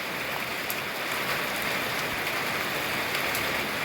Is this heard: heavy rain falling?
yes